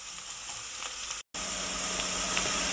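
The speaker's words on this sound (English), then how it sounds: "Let's wait until this onions get to the golden brown color." Onions sizzling steadily in a pan while they fry toward golden brown, a constant close hiss with one very short dropout, no talk.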